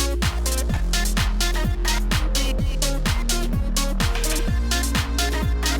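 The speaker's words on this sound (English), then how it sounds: "we have this J37, which I'm just doing a little bit of saturation, adding a tiny bit of flutter with the depth and a tiny bit of wow" An electronic remix beat runs through a J37 tape saturation plugin with slight flutter and wow, giving punchy, dense repeating drum hits with booming bass and a continuous synth layer, loud and steady.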